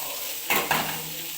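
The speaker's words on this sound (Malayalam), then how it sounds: "ചെറുതായിട്ട് അരിഞ്ഞു വെച്ചിരിക്കുന്ന സവാള ഇട്ട് കൊടുക്കാം" Finely chopped onions with ginger, garlic and green chilli sauté in hot oil for a squid roast, sizzling steadily while two quick stirring scrapes cut through, close and alone.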